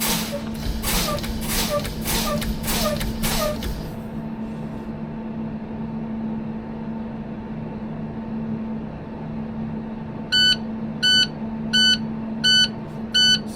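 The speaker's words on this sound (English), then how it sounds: "So my audible alarm has went off and my warning light is on." A school bus's low air pressure warning alarm sounds as five or six evenly spaced electronic beeps near the end, after rapid clicking and hissing from brake pumping over a constant low mechanical hum.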